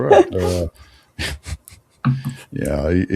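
A therapy dog pants and whimpers in short bursts close to the microphone, with breathy gasps and brief pauses between.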